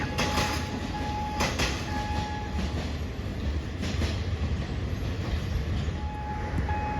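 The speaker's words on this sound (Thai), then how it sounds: "ก็เป็นขบวนรถเร็วสายเหนือนะฮะ กรุงเทพเชียงใหม่" Express train on the northern line from Bangkok to Chiang Mai rolling past a level crossing, a steady loud rumble of wheels and carriages with faint high squeals and occasional clatter, continuous throughout with no talk.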